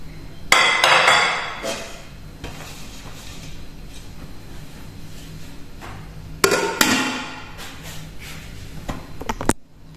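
Clean plates are handled and put away in a home kitchen, with sharp ceramic clinks and clatters in two loud bursts amid softer knocks and rustling.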